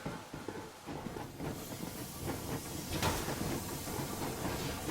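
In the video game Metro Exodus, a steam train runs at full speed, giving a continuous loud rumble and hiss with rhythmic clacking throughout and no voices over it.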